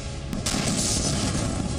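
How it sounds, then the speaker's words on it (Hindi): Demolition blast collapsing tunnels at North Korea's Punggye-ri nuclear test site, heard as a sudden loud, broad roar that erupts and keeps rumbling heavily to the end. "ये धमाका किम जोंग उन की सबसे बड़ी हार है।"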